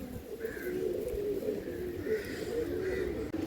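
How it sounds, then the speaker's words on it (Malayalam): Heavy pigeons in a loft coo in soft, repeated low phrases over a constant murmur of background flock noise and rustling. "ഈ ബേർഡ്സൊക്കെ നമ്മൾ കഴിഞ്ഞ വർഷം ചുറ്റിച്ചിട്ട് മുറിച്ചിട്ട പ്രാവുകളാണ്"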